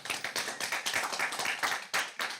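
A small group gives a short round of clapping at a school district board meeting, quick close hand claps for a couple of seconds with no voices.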